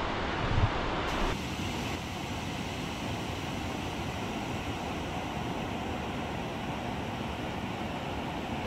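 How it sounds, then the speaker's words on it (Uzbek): Small waterfall on the Ispay stream in the Pskem mountains, a steady broadband rush of falling water roaring continuously and fairly close, with a brief bump of wind or handling at the start. "Birinchi Sharshara, kichik Sharshara ya'ni."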